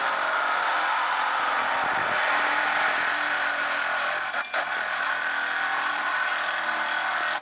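A power tool cuts carbon steel for a die rack, giving a steady, loud high-pitched grinding whine that runs continuously at close range with a brief dip partway through.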